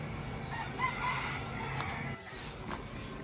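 Hens and a rooster at a small layer farm cluck and crow faintly in the background over a steady hiss of ambient noise, without any talking.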